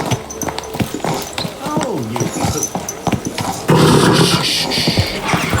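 A horse in the video game Kingdom Come Deliverance 2 clip-clops and snorts amid game sounds, with someone talking over it and louder hoof and movement noise toward the end.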